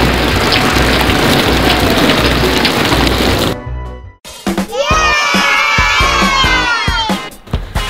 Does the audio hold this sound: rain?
yes